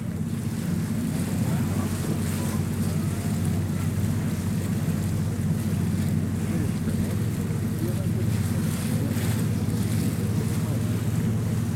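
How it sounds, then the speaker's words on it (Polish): A passenger ship moves across the Vistula Lagoon near Krynica Morska with steady engine rumble, wind buffeting the microphone and waves washing around it; no clear voices stand out. "Tutaj płynie chyba Krystyna, mój znajomy kapitan."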